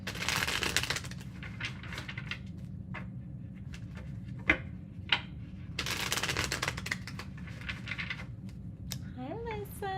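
Tarot cards are shuffled in bursts of crisp riffling and flicking, loudest at the start and again in the middle, over a steady low hum, with a couple of sharp taps and a voice talking briefly near the end.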